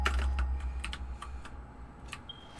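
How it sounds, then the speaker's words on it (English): Fingers tap out a quick burst of keystrokes on a computer keyboard during a Satisfactory gaming session, crisp clicks in irregular clusters then a few isolated taps, close and fairly quiet with no talk. "Sorry, fat-fingered the keyboard."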